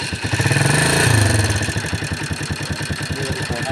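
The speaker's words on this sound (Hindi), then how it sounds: "अब हम बाइक को स्टार्ट कर रहे हैं।" A motorcycle engine starts and settles into a steady idle, its rapid even clatter continuing close and fairly loud with no talk.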